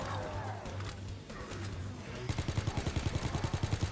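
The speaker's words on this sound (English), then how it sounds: "How have you got so many bullets with this bloody gun" Rapid automatic gunfire from a gun in Call of Duty WWII Zombies, a steady burst of evenly spaced shots in the second half, loud over game background noise.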